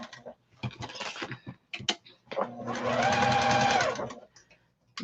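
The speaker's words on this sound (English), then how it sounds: "I am going to do a back stitch because there will be some pressure there." A sewing machine back stitches a quarter-inch seam on a fancy fabric shopping bag, with short bursts of stitching and clicks first, then one sustained whirring run near the end.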